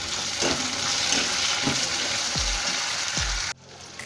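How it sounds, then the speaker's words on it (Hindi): Green chillies and tomatoes fry for poha in a pan, a dense close hiss with a few dull spoon knocks as the mixture is turned, ending abruptly near the close. "जो हमने टमाटर लिए थे, टमाटर भी डाल देते हैं। इनको अच्छे से मिक्स कर लेते हैं।"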